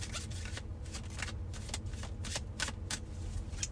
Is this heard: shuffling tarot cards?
yes